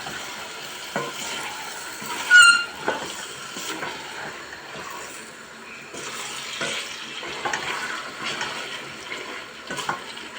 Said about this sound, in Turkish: Ve şöyle kavurmaya başlıyoruz.